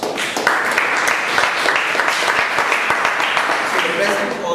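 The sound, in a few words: audience applause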